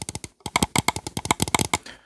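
Cherry Xtrfy M68 Pro mouse buttons clicking in a fast run of about twenty soft, crisp clicks, close up and fairly quiet, with no talking.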